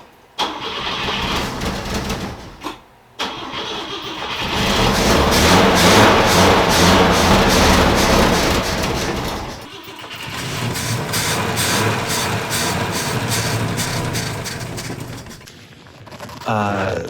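A Volvo 164's B30 straight-six, idle since 1994 and with a loose cylinder-two spark plug, cranks briefly, then catches and runs loud and rough with roaring revs before dipping and picking up again.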